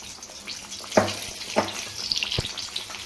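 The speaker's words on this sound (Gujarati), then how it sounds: "આપણે વ્યવસ્થિત રીતે ભજીયા તળાઈ જશે એમાં" Tomato bhajiya in a chickpea and rice flour batter fry in oil in a shallow pan: a soft, steady sizzle broken by a few sharp clinks and taps as pieces are dropped in and moved.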